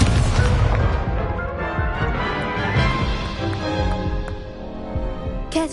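Incendio fire spell cast in Hogwarts Legacy, a loud fiery burst and crackling crash at the start that decays into a rumbling, ringing tail over several seconds, with a sharp crack near the end.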